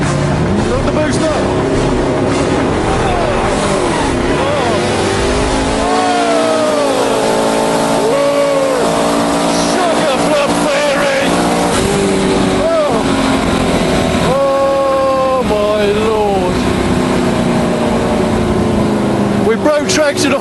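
A drag car launches and accelerates hard down the strip, spinning its tyres; a loud roaring engine climbs through gear changes over a crowd and talk, heard at close range for most of the run.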